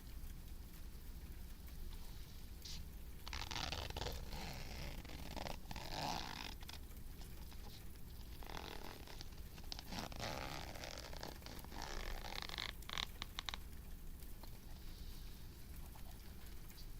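Close-up zippers rasp in a series of quick, bursty pulls, some longer and some clipped short, sounding intimate and near over a low background hiss.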